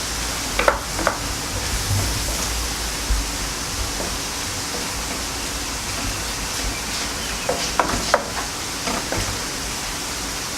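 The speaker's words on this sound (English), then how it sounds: "Turn your stove on high and then stir fry them about 1 or 2 more minutes." Beef and onion stir-frying with tamari on a stove at high heat give a loud, continuous sizzle, broken by occasional sharp scrapes and clacks of the utensil against the pan.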